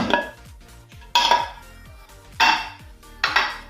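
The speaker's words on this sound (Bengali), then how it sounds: "এখন ঢাকাটা খুলে নেব।" A metal lid is lifted off a cooled pressure cooker holding banana-leaf-wrapped pora pitha, giving four sharp, close metallic clanks, each ringing briefly before fading, with no talking.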